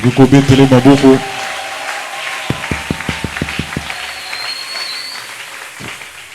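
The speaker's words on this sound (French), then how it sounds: "Est-ce que nous pouvons acclamer pour lui?" Church congregation in a French-speaking service applauding, starting with rhythmic group clapping, then a burst of sharp distinct claps fading to scattered ones, with a voice speaking over the later part.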